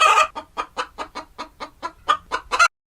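A hen in a read-aloud children's story about a groundhog clucks in a quick series of about a dozen short, evenly spaced clucks, close and clear with no talk over it.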